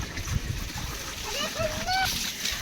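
Two children bathing together under water from a borewell pipe, with repeated splashes and running water close by while young voices chatter and squeal over the sound.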